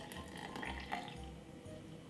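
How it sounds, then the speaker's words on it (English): Liquid is poured into a glass while making a strawberry, banana and spinach drink: a short, soft trickling pour set against steady background hum, with no talking. "I pour just a little bit in the glass"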